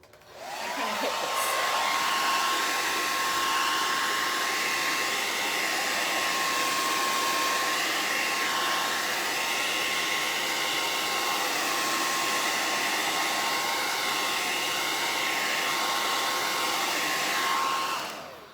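A hair dryer blows steadily on lacquer-painted glass for about eighteen seconds, a loud, constant whooshing roar with a faint high whine running through it.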